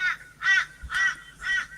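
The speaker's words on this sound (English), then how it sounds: "That is a crow" Four loud, harsh crow caws in an even rhythm, close by, with brief quiet gaps between them.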